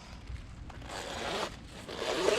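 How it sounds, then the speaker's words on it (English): A vehicle soft top's window zipper is drawn slowly in a long scraping pull, fairly close and soft, with a brief pause midway. "Then you're gonna wanna zip the windows up"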